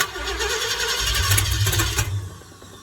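A Ford F-100 pickup with a 390 engine cranks and catches, a loud nearby rumble that roughens briefly before cutting off.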